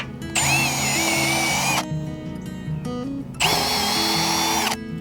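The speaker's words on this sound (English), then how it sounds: "Get the drill, hold it in place." A power drill bores into a wooden fence post for a four-rail fence, two loud, close whining bursts separated by a short pause with lower mechanical rumbling in between.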